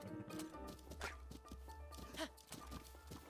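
A horse gallops in The Legend of Zelda: Breath of the Wild, with rhythmic hoof clip-clops over game music and a brief whinny mixed in.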